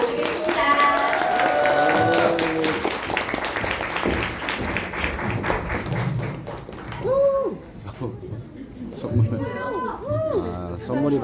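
Audience applause welcoming a speaker at a small gathering, clapping through the first half then thinning under cheerful voices and chatter, with speech taking over toward the end.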